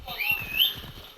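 In a video game, a horse's hooves clip-clop at a steady trot, soft and fairly close, with a faint high whistling tone above them.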